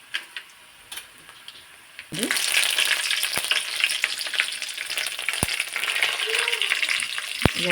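Mustard seeds and cumin drop into hot oil already frying peanuts for North Karnataka churumuri, bursting into a loud continuous sizzle with scattered sharp pops and crackles after a few quieter clicks of stirring.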